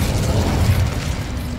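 A fiery Incendio spell cast in Hogwarts Legacy, a dense low rumbling burst of flame that swells and sustains steadily throughout, loud and close with no talking.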